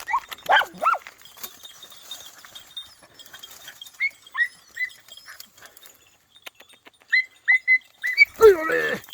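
A pack of five young hunting dog puppies baying and yelping on a hunt outdoors, bursts of high barks and howls scattered through, nearby to moderately distant, with faint whistling and livestock-like calls in the background.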